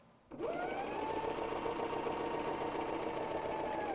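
BERNINA L 660 overlock machine sewing rolled hem stitches, its motor starting abruptly and then running in a steady, even, fast whirring hum until the end.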